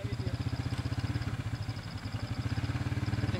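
A Yamaha Vixion motorcycle engine runs with a steady, rapid pulsing thump, loud and close, its rhythm holding throughout with a faint high whine above.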